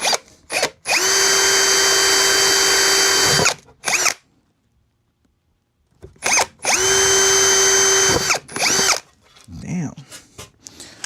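A power drill bores holes into an amplifier chassis in two long, loud whining bursts with short stops between, then a pause, followed by brief trailing tool noise.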